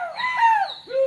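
A pigeon at a pigeon-keeping setup gives a single short, clear call lasting about a second, near and fairly loud, with no talking.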